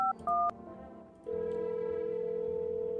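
Telephone keypad tones in a video game: a few quick beeps at the start, then a steady dial tone holding on alone.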